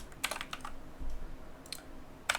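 Fast, light clicking of computer keyboard keys while writing Go code, heard as short bursts of close, crisp taps with brief pauses between them.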